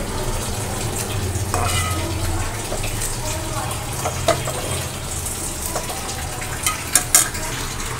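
Sliced onions frying in hot oil for biryani, a dense steady sizzle up close with occasional stirring clinks from a utensil against the pot.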